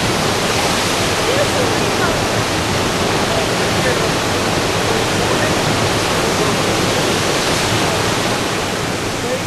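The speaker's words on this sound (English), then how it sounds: "The falls are 65 feet high and 125 feet wide." Cumberland Falls on the Cumberland River in southeastern Kentucky, a waterfall 65 feet high and 125 feet wide, roars as a loud, steady, unbroken wash of falling water with no let-up.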